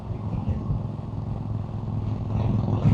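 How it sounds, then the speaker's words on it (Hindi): A Harley-Davidson cruiser motorcycle riding alongside on a road near Phillip Island, its steady low engine rumble and wind noise filling the scene continuously, loud and close, swelling slightly toward the end. "ये क्रूज़र बाइक जा रही है मेरे साथ"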